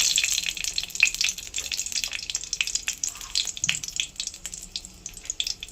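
Dried red chillies crackle and sizzle in hot mustard oil in a wok, a steady close frying hiss with scattered sharp pops throughout, no voices.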